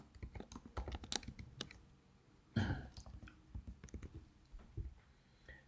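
A computer keyboard being typed on while writing HTML code in a Laravel file storage project, giving irregular bursts of close, crisp key clicks with one louder clack midway and no talking.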